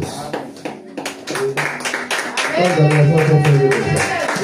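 Congregation clapping together during a French-language church worship service, sharp rhythmic claps starting sparse and quickly joined by a voice singing or calling out over them, close and loud.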